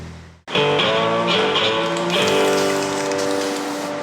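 Steady rain pours down, loud and continuous from start to finish, with a sustained tonal layer running above it.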